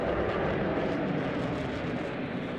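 A jet airplane roars through a takeoff, a dense, loud and steady rush of engine noise used as a podcast intro effect, with no voices.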